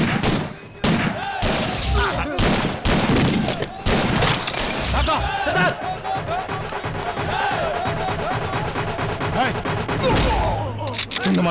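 Police open fire in an Indian action movie scene, with rapid bursts of loud gunshots and sharp impacts packed together. The shots are followed by continuing crackling and clattering.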